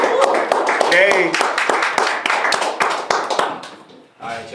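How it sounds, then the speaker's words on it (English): Clapping follows a call for applause in a writing-session show, loud hand claps mixed with voices talking over them, fading briefly before a last burst. "Give me a round of applause, y'all."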